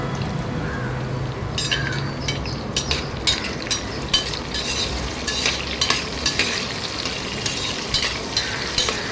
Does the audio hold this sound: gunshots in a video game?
no